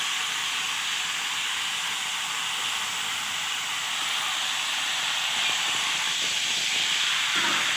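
Large pieces frying in oil for pulao make a constant, even hiss that holds at a moderate level for the whole stretch with no voices.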